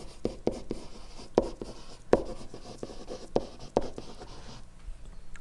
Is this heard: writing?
yes